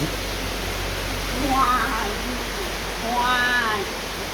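Steady rain falls outside a house, a continuous broadband hiss filling the whole stretch, with voices or sung tones rising faintly over it at moments.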